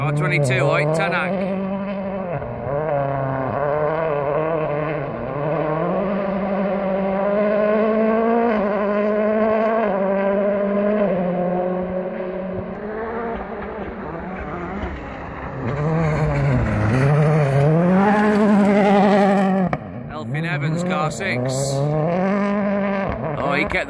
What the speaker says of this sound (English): Car 22, Oit Tanak.